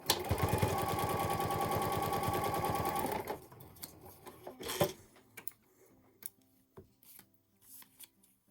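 A sewing machine stitches fabric for a small needle book, running in a steady fast whir of needle strokes for about three seconds, then stopping, followed by quieter scattered handling clicks and rustles of fabric.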